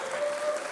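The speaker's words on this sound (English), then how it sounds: "Please give them a round of applause." Audience applause at a student wellness competition event: a short burst of steady, moderately faint clapping from a crowd.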